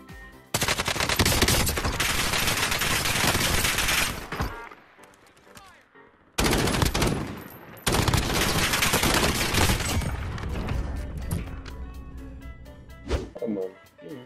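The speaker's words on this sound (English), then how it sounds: "waiting for the perfect moment to start shooting" Rapid automatic gunfire from the Warzone video game erupts in two long, loud bursts separated by a brief pause, with sharp shots and rattling echoes, followed by quieter scattered sounds.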